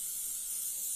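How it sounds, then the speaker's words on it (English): Basting spray hisses from an aerosol can onto fabric, one steady, fairly close, bright spray held for about a second with nothing else heard. "I do like a bit of basting spray on"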